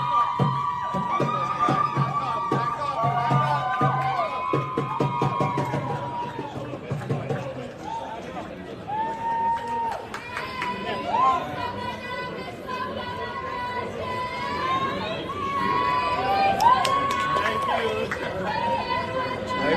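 Crowd gathered at an airport, with excited chatter, shouts and cheering rising and falling and people talking over the din.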